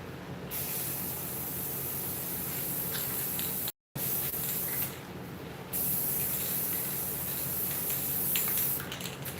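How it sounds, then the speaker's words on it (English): Gold spray paint hisses from an aerosol can in a continuous spray, wet blended over armor in a workshop. One short break interrupts the spray, and the bursts that follow are loud and close. "I'm wet blending this spray paint."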